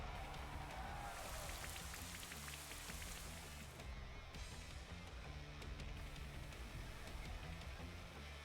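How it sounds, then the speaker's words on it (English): Rain effect from a move in the Pokémon Shield video game, a dense, steady patter of falling rain that carries on evenly and fairly loud, with no talk over it. "All you did was make it rain."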